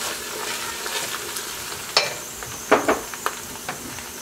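Onions frying in a pan while making Afghan Shola-e Ghorbandi sticky rice, a soft steady sizzle with a few sharper crackles and clicks of stirring near the middle, fairly quiet and close.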